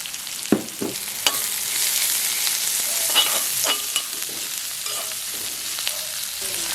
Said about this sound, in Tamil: வெங்காயம் வதக்கட்டும்